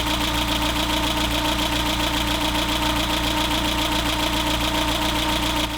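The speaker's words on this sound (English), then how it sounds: "And that's it, it's running on LPG." A 1992 Renault Trafic van engine, converted to run on LPG, idles steadily nearby with a constant rumbling, slightly knocking mechanical clatter throughout.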